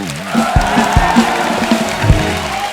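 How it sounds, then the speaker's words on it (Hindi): A continuous wash of clapping and cheering fills the Kapil Sharma Show studio as the audience applauds again, with rhythmic band drum hits punching through the crowd noise. "और एक बार जोर से तालियां हो जाए।"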